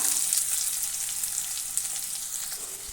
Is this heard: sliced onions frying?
yes